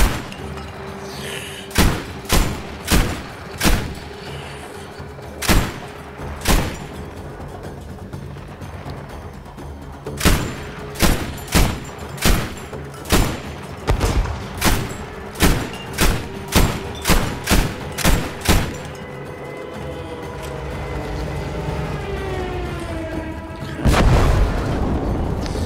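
Gunfire and explosions in Battlefield V: a long series of heavy, booming shots at a steady pace, some in quick runs, with quieter gaps, a whistling rumble near the end and a final loud blast.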